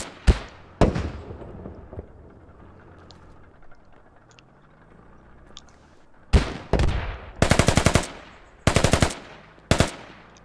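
Gunfire in the military shooter game Squad: a couple of sharp shots, a quiet stretch, then loud clustered bursts of automatic fire in quick rhythmic volleys, close by.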